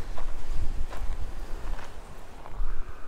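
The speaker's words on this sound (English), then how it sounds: "except for the wind" Gusty wind buffets the microphone at a campground in Cheyenne Mountain State Park, a low rumbling roar that swells and eases in uneven surges, with no voices.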